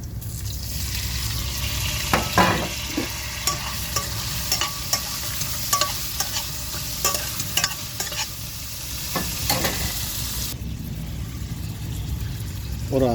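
Chicken liver frying in a pan with sautéed garlic and green chili, a loud close sizzle with repeated scraping and stirring clinks of a spoon against the pan.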